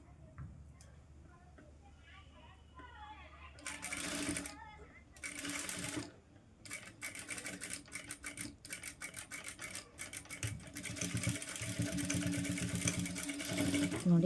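A sewing machine stitches a ruffle sleeve in steady, fast, whirring runs that grow louder and more continuous, with a voice speaking in the background early on.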